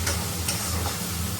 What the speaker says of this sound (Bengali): এটা খুব ভালো করে কষে নেবেন